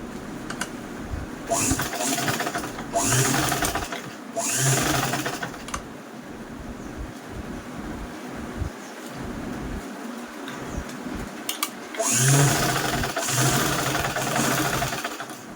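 A sewing machine set to stitch length 5 stitching quilted fabric with a Heatlon interlining: several runs of rapid, rhythmic motor-driven stitching, close and moderately loud, separated by brief pauses.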